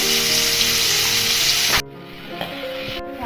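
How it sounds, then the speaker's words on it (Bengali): Prawns frying in hot oil with a little salt give a loud, steady sizzle that drops abruptly to a quieter, softer sputter partway through, then continues low with a few faint pops; no talking. "এবার চিংড়ি মাছগুলোকে একটু ভেজে নেব"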